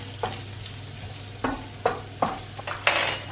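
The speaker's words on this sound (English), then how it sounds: "this is starting to sizzle" Oil in a pan sizzles with a steady hiss while sweet chilli chicken cooks, broken by a few sharp clatters of a utensil stirring, close and fairly loud, with no voices.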